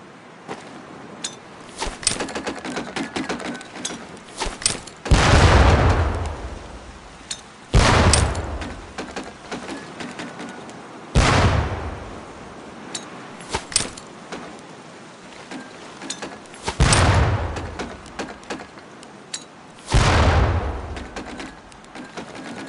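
Training grenades exploding at target barrels during boot camp in Medal of Honor: Pacific Assault, a game: about five loud booming blasts spaced a few seconds apart, each with a long decaying rumble over a steady background ambience.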